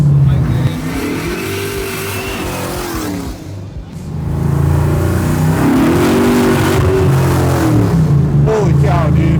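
A 1969 Chevelle with a 632 cubic inch big-block Chevy crate engine making 1004 horsepower revs hard and loud at close range, its deep roar climbing and falling through two big throttle blips with a brief dip between, and a voice faintly over it.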